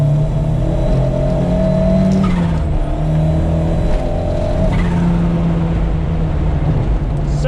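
Ford Mk2 Escort with a turbocharged Pinto engine revving hard on a rolling road, loud and close, rising and falling through several throttle pulls with a whining tone layered over the exhaust.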